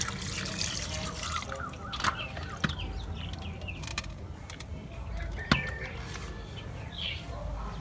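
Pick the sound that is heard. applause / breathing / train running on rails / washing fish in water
washing fish in water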